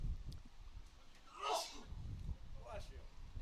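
A single sharp sneeze bursts out midway through a live semifinal baseball game broadcast, set against faint background murmur and low rumble, with a softer breathy sound following shortly after.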